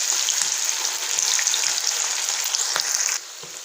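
Chicken 65 pieces frying in hot oil, a dense, bright, continuous sizzle with scattered pops and crackles, loud and close, ending in a sudden drop in level.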